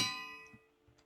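A bell in the Minecraft video game gives a single bright clang at the start, then a ringing tone that slowly fades; faint small knocks follow and there is no talk.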